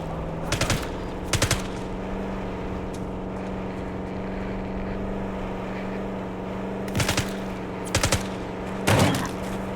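Bursts of automatic gunfire in Call of Duty Black Ops 6, several short rapid volleys close and loud, separated by long stretches of low rumbling ambience.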